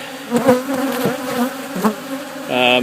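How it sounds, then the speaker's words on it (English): Dense, steady buzzing of many honeybees close by on blooming Brazilian pepper in Florida, a continuous hum with individual insects swelling louder as they pass. "I'm not sure if you can hear me over the din of the bees"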